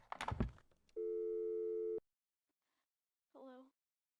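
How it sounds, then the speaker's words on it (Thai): A ringing telephone in the video game Just Cleaning: one steady electronic tone holds for about a second, then silence, then a short warbling burst, after brief clattering at the start. "เหมือนมีโทรศัพท์ ใช่โทรศัพท์"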